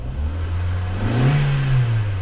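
A MINI car engine revs up from a low idle, pitch climbing and holding high before easing slightly, loud and close with no talking.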